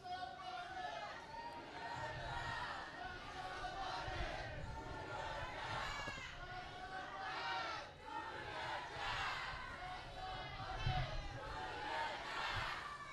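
A rally crowd in Meriden cheers and shouts together in a loud, sustained burst, with voices rising and falling in waves across the whole stretch and a steady roar of many people close by.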